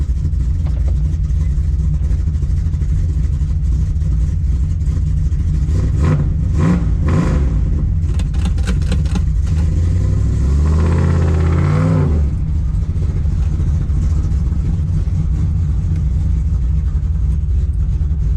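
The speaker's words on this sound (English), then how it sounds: "Figure I'd do a short test drive to put in the video." Turbocharged Ford Thunderbird on a short road test drive in traffic, its engine rumbling steadily, with a louder rev and spool-up around the middle before settling back to a cruising drone.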